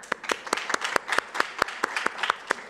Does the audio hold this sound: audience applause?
yes